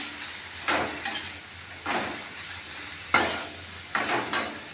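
A spoon stirs a vegetable curry of drumsticks, eggplant, green banana, potato, carrot, radish and mung dal vadi frying in a pan, making four scraping, sizzling strokes at a slow, uneven rhythm over a quiet background.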